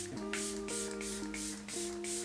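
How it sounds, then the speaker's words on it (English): Makeup setting mist sprayed onto a face, four quick hissing spritzes in a row, close to the ear, over a steady background hum. "let's put some setting mist on there"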